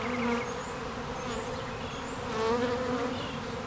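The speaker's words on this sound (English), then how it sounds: "I just wish I had more bees in this swarm" Steady buzzing of a honeybee swarm, continuous and fairly close, with individual bees' pitches drifting in and out over a constant hum.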